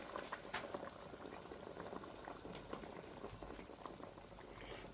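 Wild garlic and organic cabbage soup bubbles in a pot, a continuous close burble of boiling liquid with small pops, steady and moderately quiet, no talking.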